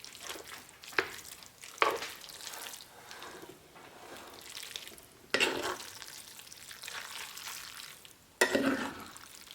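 Vegan Thai coconut curry noodles topped with cilantro and green onion are stirred in a pan: a series of scraping, sloshing strokes with a few sharper clacks, fairly close and moderately loud, with no talking.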